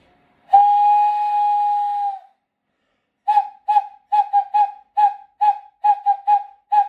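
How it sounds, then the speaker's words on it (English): A conch shell is blown in one long, steady blast, followed after a pause by a quick series of about a dozen short, clipped toots, clear and alone with no talking. "I'd end with the sound of a conch."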